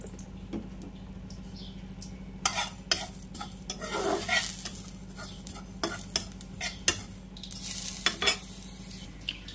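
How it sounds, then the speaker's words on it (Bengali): Panch phoron and whole cumin seeds fry in a hot wok, giving a steady close sizzle and crackle broken by scattered sharp pops and spoon scrapes against the metal, with no talk. "গরম হলে এর মধ্যে দিয়ে দেব 1 চামচ 5 ফোড়ন আর 1 চামচ গোটা জিরা। এটা ভালো করে ভেজে"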